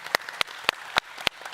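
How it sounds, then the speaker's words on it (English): Audience applause for a conference panel in a conference hall, heard as a few sharp, evenly spaced claps, fairly near and moderate in volume, with no one talking. "A big round of applause for our wonderful panel"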